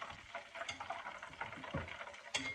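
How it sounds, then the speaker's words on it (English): Chicken gizzards fry in oil over low heat, giving a faint steady sizzle with occasional clinks and stirring scrapes from a utensil. "I'm going to start frying up the rest of the gizzards."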